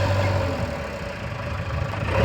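A farm tractor engine runs steadily at a low idle with a rumbling diesel drone, close and continuous, with no voices.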